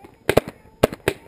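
Paintball gun shots during a zombie-themed big game in Calvillo, four sharp pops in two quick pairs, fairly close, with no talk over them.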